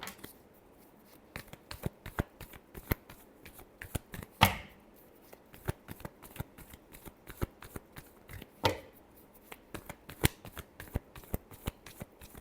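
Tarot cards being shuffled by hand in a rapid run of crisp riffling snaps close by, with two louder bursts partway through, and no talking.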